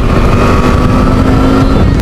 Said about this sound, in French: C'est génial avec cette moto.